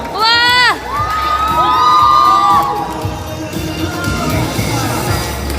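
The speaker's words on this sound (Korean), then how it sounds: "다시 한번 뜨거운 박수 부탁드리겠습니다" A crowd at a red carpet event at Busan's cruise port erupts in loud, high-pitched screams and cheers, with the rising shrieks fading into a sustained, noisy roar.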